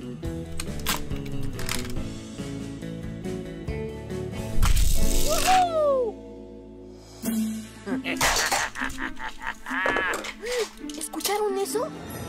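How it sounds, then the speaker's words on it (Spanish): Cartoon sound effects for a toxic gorilla in a Hot Wheels car workshop: rattling, crashing and swooping squeals in bursts, mixed with music and lively character voices. "¿Escucharon eso? El gorila tóxico está aterrorizando el taller de autos."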